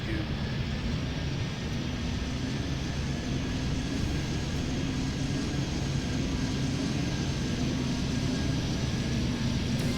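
Airliner taking off in Airport Madness 3D, a steady loud jet engine roar with a slowly rising pitch across ten seconds, continuous and close.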